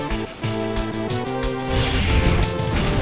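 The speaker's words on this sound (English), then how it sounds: "A smashing blow!" A heavy smashing-blow strike in the Pokémon Battle Revolution video game, a loud impact crash bursting out after a short run of synthetic battle tones, then a noisy burst that holds to the end.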